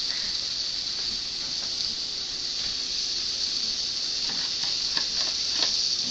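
Beef sizzling after being returned to a wok for a spicy Chinese dish, a steady bright hiss with occasional faint pops and scrapes, close and continuous.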